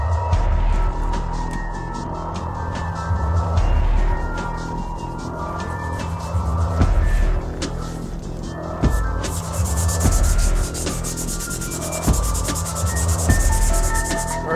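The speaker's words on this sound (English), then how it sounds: "let's go ahead and start cutting in our scribe lines here into this styrene" Repeated scraping strokes of a scribing tool cutting lines into styrene plastic sheet, a steady close rubbing rasp with rhythmic passes and no talking.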